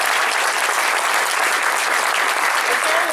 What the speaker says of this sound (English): A round of applause, too, for the kids tonight who are learning the civic responsibility.